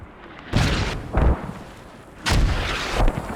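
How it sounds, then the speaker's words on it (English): Mortar fire in a multiplayer match in a video game, four heavy booming blasts arriving in two pairs, each loud with a rumbling tail. "So they found the mortars and looks like they're trying to mortar their mortars."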